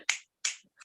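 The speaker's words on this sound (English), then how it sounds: "let's get some finger snaps into the webcam" An audience at an online open mic snaps fingers into a webcam: two sharp, crisp snaps about a third of a second apart, then a fainter third snap, with silence in between.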